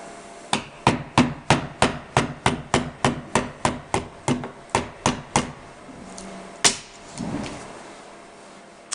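A chisel is driven into a wood workbench top in a steady series of about fifteen sharp, close mallet-like strikes, then a pause, one last louder knock and a short scraping rustle.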